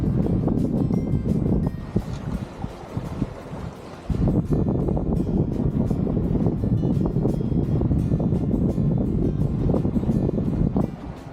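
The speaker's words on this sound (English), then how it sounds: "I'm sailing, which is bloody awesome" Sailboat underway in gusty wind off the Keppel Islands, a steady loud rush of wind buffeting the microphone over water and hull noise, dipping briefly early on before surging back, with no voices.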